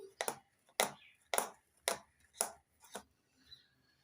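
A pudding bowl is rapped on a counter to settle the semolina caramel pudding mixture, giving about seven sharp, close knocks at an uneven pace that grow fainter toward the end.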